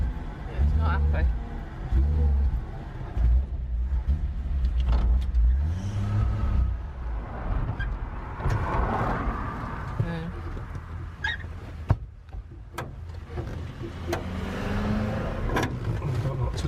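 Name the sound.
Chevy 3600 truck engine revving, struggling for fuel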